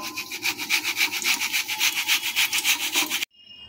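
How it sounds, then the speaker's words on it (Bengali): Boiled cauliflower florets rubbed against a kitchen grater in steady, rapid back-and-forth strokes, a close, rhythmic rasping scrape repeated for about three seconds before stopping abruptly. "আমি এটা গ্রেটার নিয়ে এগুলোকে পুরো ঘষে নেব। ডাটিগুলো ফেলে দেবো, শুধু ফুলগুলো আমি পুরো ঘষে নিয়ে নেব।"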